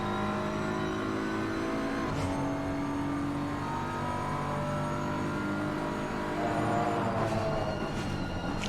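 GT3 race cars braking into turn 1 at Kyalami in a PC sim racing game, with steady loud engine drone and shifting engine pitch as they slow, no talk.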